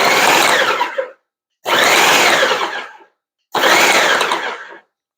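A food processor pulses butter into flour for pie crust in three loud, close bursts of about a second each, whirring and gritty, separated by brief silences.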